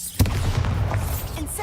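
Bombarda spell blast in the video game Hogwarts Legacy: one sudden burst early on, followed by a rumbling, crackling tail that fades unevenly, fairly loud and close.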